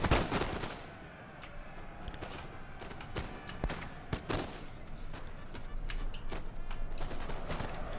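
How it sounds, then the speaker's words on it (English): Massed rifle volleys crackle in a Napoleon: Total War battle between Russia and the Ottomans, rapid overlapping gunshots popping in dense irregular bursts over a continuous din of distant battlefield noise. "We're just going to finish off this last line of riflemen. Look at that volley."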